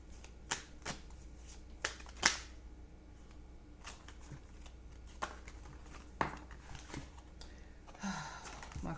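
Tarot cards are shuffled close by in a series of sharp, crisp riffles and flicks spaced irregularly over several seconds, with faint speech briefly in the background.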